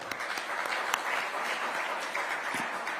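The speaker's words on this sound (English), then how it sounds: "And we'd like a loud round of applause for them." An awards-night audience claps for the event sponsors in a continuous, even round of applause that holds throughout, moderately loud, with a few sharper individual claps standing out near the start.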